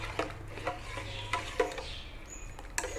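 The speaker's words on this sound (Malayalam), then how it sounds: "ഒഴിച്ച് കൊടുത്തിട്ട് നല്ലവണ്ണം ഇളക്കി കൊടുക്കണം." A spoon stirs freshly squeezed lemon juice into a pan of sugar syrup for homemade lemon syrup, with scattered light clinks and scrapes against the pan at close range.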